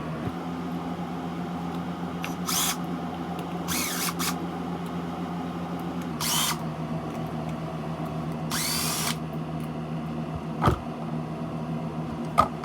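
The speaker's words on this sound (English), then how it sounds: "Get those screws loosened." A small power screwdriver loosening screws on the front differential of a 1/8 scale RC car, with several short whirring bursts separated by pauses over a steady background hum, no talking.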